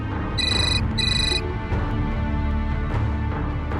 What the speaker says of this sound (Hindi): देखिए ना देवर जी, हमारा फोन आ गया